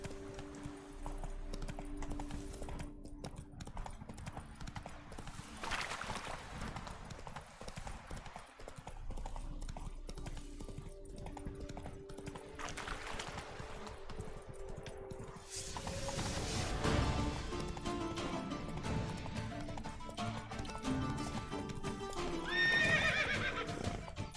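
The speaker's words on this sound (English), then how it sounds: "Come on. Run, Roach" Video game horse in Witcher 3 galloping with steady rhythmic hoofbeats and occasional whinnies, joined by game ambience and effects, moderately loud.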